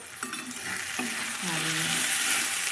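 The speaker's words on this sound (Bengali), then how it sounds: "এবার মশলাটা ভালো করে পেঁয়াজ টমেটো রসুন আদার সাথে কষবে ভালো করে।" Spice masala fries with onion, tomato, garlic and ginger for a homemade chicken biryani, giving a continuous bright sizzle that grows slightly louder, with a few soft stirring touches.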